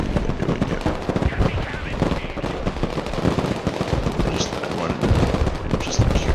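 Dense, continuous gunfire and explosive bursts from a Broken Arrow military battle, with armored vehicles pushing, loud and layered, with faint voices underneath.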